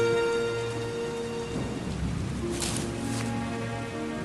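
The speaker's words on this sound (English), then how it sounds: "It began raining, and Arlo knew he had to build a shelter" Steady rain pours down while a low roll of thunder rumbles through the middle, with no one talking.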